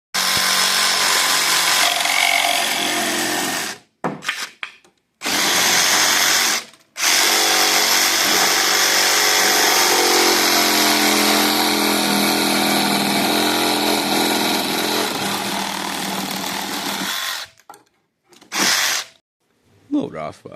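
A power saw cuts wooden braces for a freestyle motocross ramp in loud, close, sustained runs, stopping and restarting several times with short silent gaps and brief bursts near the end.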